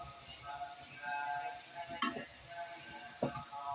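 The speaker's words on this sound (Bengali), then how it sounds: "এখন কিছুক্ষণ নাড়াচাড়া করব।" Bitter gourd and stinging catfish curry being stirred in a pan, with a soft steady sizzle and two sharp scraping clinks of the utensil against the pan.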